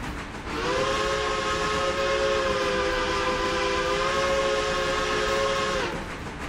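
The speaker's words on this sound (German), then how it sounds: "Und einmal pfeifen. Machen wir doch." A steam locomotive whistle sounds in the railroad video game Railroader, one long, loud, steady chord-like blast of about five seconds that cuts off sharply at the end.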